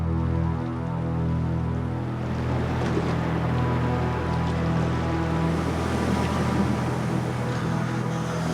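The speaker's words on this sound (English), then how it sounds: "Wave after wave crashes in." Ocean surf at Bondi Beach rushes in a continuous, full wash of breaking waves, with a low steady hum running beneath it throughout.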